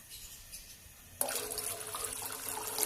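About 1.5 litres of water is poured in a home kitchen. A quiet stretch gives way to a sudden, loud, continuous splashing rush that lasts to the end.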